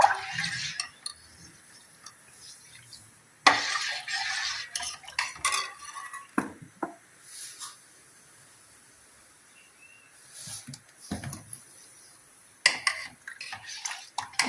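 A spoon scrapes and clinks against a pan as rava semolina is stirred, the sound coming in irregular close bursts with quiet gaps between them.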